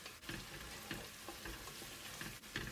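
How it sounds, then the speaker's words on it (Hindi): Garlic, ginger and cumin seeds roast in a pan for dal mash, giving a faint, steady sizzle with soft periodic stirring taps and no voices. "और हम इसको थोड़ा सा 2 मिनट भून लेंगे"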